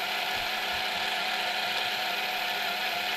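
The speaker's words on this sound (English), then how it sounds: "You can hear how the motor RPM is slower now that the diff is tighter." A radio-controlled car's electric motor spins on a bench with its TLR ball differential tightened, giving a steady, loud, continuous mechanical whir with a ratcheting, gear-like buzz that holds even throughout, with no voices.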